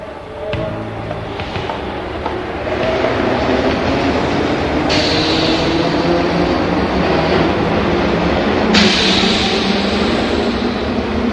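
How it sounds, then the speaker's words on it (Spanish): A metro train rumbles through an underground station in a radio-drama sound effect: loud, steady rolling with clattering wheels and sharp hissing bursts, filling the platform for over ten seconds with no voices. "Dejé pasar los trenes"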